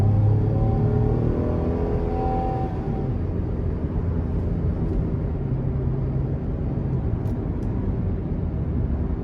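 A 2011 Cadillac SRX Luxury's 3.0 engine at 102,000 miles pulls under throttle, a steady loud low drone with a rising tone early on, heard from inside the cabin with constant road rumble throughout.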